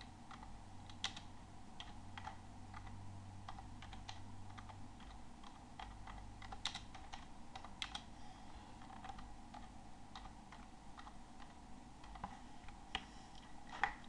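Faint, irregular keystrokes on a computer keyboard tapping steadily as someone types text into a spreadsheet cell, with no talking.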